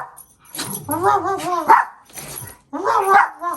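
A dog gives a few howling, sing-song barks and yips in two bursts, close by, with a person's voice mixed in.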